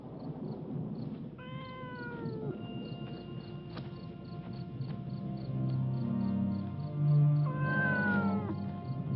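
A cat meowing in a film scene at night, two distinct drawn-out meows, one early and one near the end, moderately close over a faint background of insect-like chirps and low hum.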